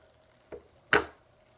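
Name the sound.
knife cutting open a stress ball filled with Orbeez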